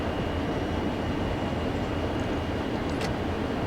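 A steady, loud rumble of an SD40-2 diesel locomotive running along the tracks in a train simulator game, a continuous mechanical drone with a brief high squeal near the end.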